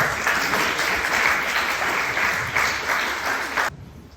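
An audience at a startup conference applauds a student startup team coming up to the stage, steady dense clapping for several seconds before cutting off abruptly.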